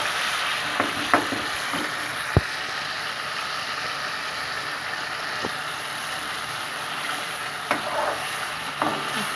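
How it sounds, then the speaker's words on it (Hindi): Ginger garlic paste fries in ghee for chicken karahi kaleji, giving a dense, even sizzle that runs the whole time, with a few faint stirring knocks, up close and without speech. "अच्छे तरीके से अदरक लहसुन जो है ना ये भुन जाएगी घी में"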